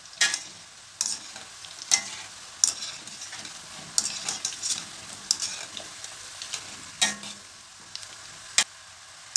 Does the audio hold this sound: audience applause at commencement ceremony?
no